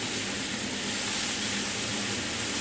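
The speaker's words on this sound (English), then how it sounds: "So I'm gonna go ahead and lay this bacon on the skillet." Bacon strips laid on a hot skillet give a steady, even sizzling hiss that holds unchanged throughout, with no voices.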